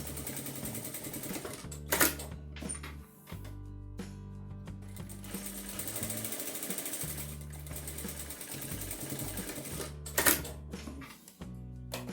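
A sewing machine stitches a securing seam across a small pocket on a fabric notebook cover, running in several close, steady bursts of rapid mechanical whirring separated by brief pauses and handling clicks.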